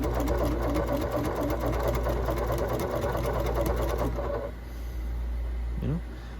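A sewing machine stitches a rolled hem on chiffon, a fast steady mechanical whir that runs loud for about four seconds, then drops off and fades, with a faint voice near the end.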